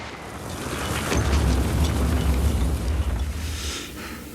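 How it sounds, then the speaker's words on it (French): Battlefield at Verdun: a deep rumbling explosion swells and rolls on for several seconds, loud and heavy in the low end, with faint whistling traces above before it fades. "Des sifflements et des explosions se font à nouveau entendre."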